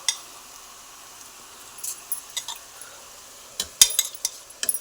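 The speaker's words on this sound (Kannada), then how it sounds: "ಇವಾಗಲೇ ಅಕ್ಕಿಯನ್ನು ಹಾಕ್ಕೊಂಡು ಸ್ವಲ್ಪ ಫ್ರೈ ಮಾಡಿದ್ರೆ ತುಂಬ ಚೆನ್ನಾಗಿರುತ್ತೆ" Rice frying in a pan, with a soft steady sizzle under scattered scraping and clinking of a utensil stirring against the pan, strokes bunching into louder clusters near the end.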